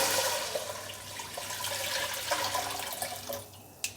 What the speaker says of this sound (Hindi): सबसे पहले हमने देगची में 1 जग पानी डालना है।